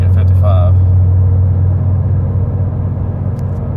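A Ford F150 with a 5.0 V8 and aftermarket mufflers cruises in sixth gear at 55 mph, giving a steady low exhaust drone with road rumble from inside the cab, and a voice is briefly heard over it early on.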